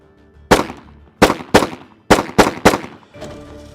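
Six sharp pistol shots fired in quick pairs and singles during a timed target drill, each crack loud and close with a short ringing decay, followed by a faint seventh report.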